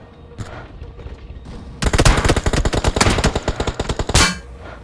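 A rapid burst of gunfire from houses in BGMI (PUBG Mobile), dense cracking shots over about two seconds, loud and close, following a quieter stretch of background noise.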